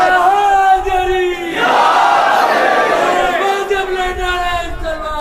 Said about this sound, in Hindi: मुर्दाबाद का नारा जरा जोर से लगाया करो